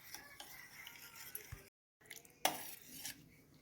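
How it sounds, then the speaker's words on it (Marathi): A spoon stirs jaggery into a raw mango sherbet, giving a few faint, brief metallic clinks and scrapes against the vessel, with a short silent gap midway and a sharper clink near the end. "आणि आता चांगलं मिक्स करायचं गूळ आपला सगळा विरघळेपर्यंत चांगलं असं मिक्स करून घ्यायचं"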